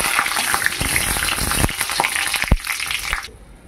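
Bay leaves, dried chillies, cumin, cardamom and cinnamon sizzle and crackle in hot oil for a dal with fish head, a steady loud fry with sharp pops and spatters that cuts off abruptly near the end.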